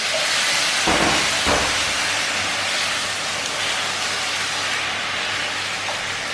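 A spoonful of water hits a hot pan while preparing a Ramadan platter dish, setting off a loud, sustained steam hiss up close, with a couple of soft knocks early on and no talking.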